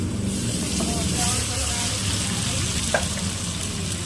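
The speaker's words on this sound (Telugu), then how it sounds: "దీంట్లో అల్లం వెల్లుల్లి పేస్ట్ కూడా వేసుకొని బాగా కలుపుకోవాలండి." Turmeric and ginger-garlic paste sizzling in hot oil as it is stirred in a pan, a loud continuous frying hiss with occasional scrape of a spoon, with talk faintly underneath.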